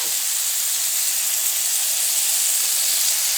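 A quesadilla burger sizzles steadily in a hot pan, a continuous bright hissing crackle that stays even and close throughout, with no talking.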